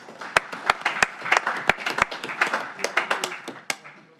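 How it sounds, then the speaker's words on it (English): Scattered applause at a council meeting, a handful of people clapping at close range with distinct sharp individual claps and an uneven rhythm. "this is something you can clap for"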